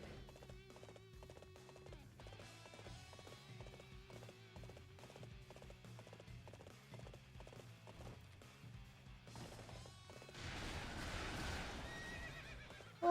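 Horse neighing and hoofbeats in Dynasty Warriors 8, repeated clip-clop steps under a steady layer of game music, with a louder burst of clatter near the end.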